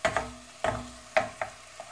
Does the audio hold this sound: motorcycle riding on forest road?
no